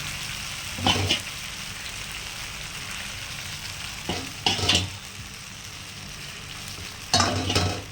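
A whole fish fries on a small tawa with a steady, close crackling sizzle, and three brief louder bursts of spatter mark moments when the fish is moved or flipped.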